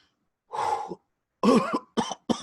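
A voice imitates coughing: one rough cough burst, a pause, then three more hacking coughs in quick succession, close and fairly loud.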